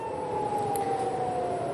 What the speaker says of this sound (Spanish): Salen las sirenas